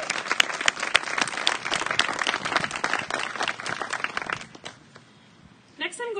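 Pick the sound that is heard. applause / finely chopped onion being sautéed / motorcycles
applause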